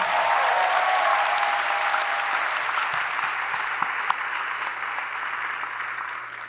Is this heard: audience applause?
yes